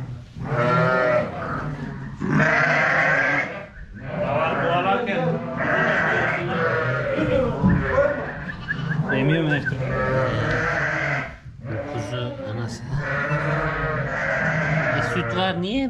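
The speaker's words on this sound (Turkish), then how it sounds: "Koyun ay koyun." Sheep bleat loudly and repeatedly in a barn with newborn lambs, long wavering calls one after another close by, with people talking in between.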